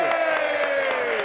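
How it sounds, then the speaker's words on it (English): Members of a provincial parliament during question period clap and call out together, a busy, loud crowd roar with rhythmic desk thumping and a few raised voices mixed in. "that applause is well deserved"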